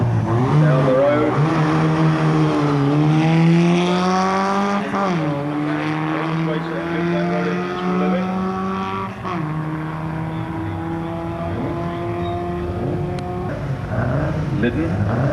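A Ford race car at the 1991 Brighton Speed Trials roars up through its gears, the loud engine note rising in pitch and dropping at each shift as it accelerates away down the course.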